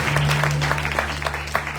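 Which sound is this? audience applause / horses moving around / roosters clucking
audience applause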